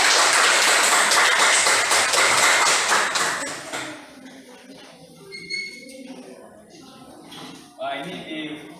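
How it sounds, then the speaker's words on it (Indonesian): A classroom group gives a short burst of applause after a student discussion presentation, dense clapping for a few seconds that stops abruptly, followed by quieter room sounds, taps and scattered voices. "kita beri tepuk tangan ya."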